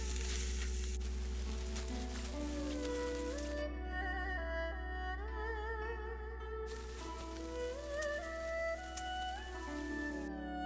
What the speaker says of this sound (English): we'll fry this onions till it becomes translucent